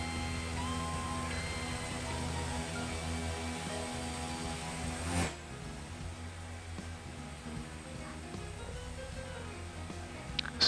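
A small airplane's engine runs steadily before taxiing, a continuous droning hum with layered tones, loud and close throughout, with a brief swell midway and no talking.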